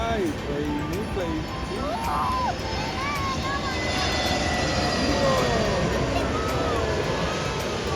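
Steady, loud engine roar of a low-flying airplane passing overhead as a train also passes, continuous throughout with voices and other noise mixed in.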